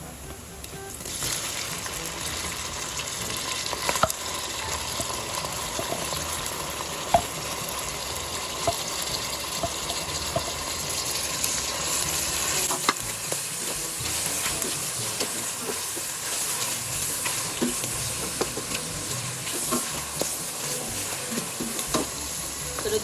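Mushrooms going into a frying pan for carbonara, a steady, fairly faint sizzle and hiss with occasional stirring clicks and scrapes, no talking.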